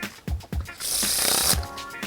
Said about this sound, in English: First, let me give them a nice shuffle.